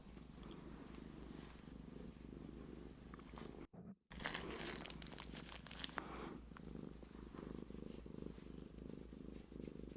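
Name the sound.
cat purring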